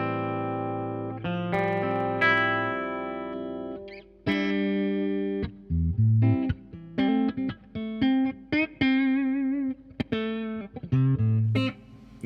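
Electric guitar played through a DOD Grunge amp placed left and right in stereo, with sustained chords and then choppy riffs and bends, distorted and up close, with no voices.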